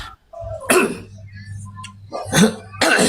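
A person coughs a couple of times, short harsh bursts separated by a low steady hum, close to the listener.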